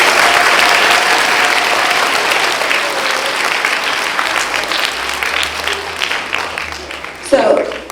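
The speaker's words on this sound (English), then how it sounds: "Give her a big round of applause." Audience applause at a primary school's 70th birthday celebration, a steady roar of many hands clapping that stays loud for most of the span and thins slightly toward the end.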